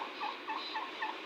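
A displaying male turkey perched near a window with two hens gobbles in a rapid, rhythmic run of throaty pulses, moderately close.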